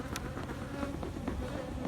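Honeybees buzz steadily and densely at an open hive during an inspection, a close, continuous drone with small shifts as individual bees pass near.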